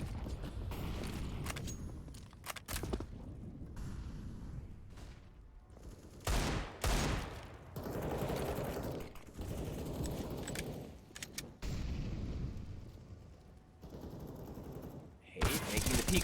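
Rapid gunfire and bursts of shots during a Counter-Strike esports match, dense and loud throughout, mixed with game mechanical clicks, under continuous caster commentary.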